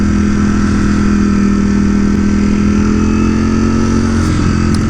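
A motorcycle passes near a rider on a Ducati Streetfighter V4 S, its engine drone blending into constant loud wind and road rumble with no clear peak.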